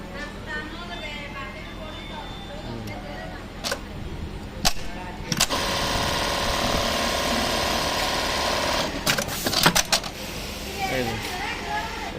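A Brother RH-8920 industrial buttonhole sewing machine with a thread-trimming fault runs in a short loud mechanical burst between sharp clicks and knocks, with someone talking over the quieter stretches.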